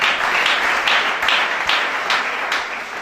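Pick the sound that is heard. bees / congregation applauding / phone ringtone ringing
congregation applauding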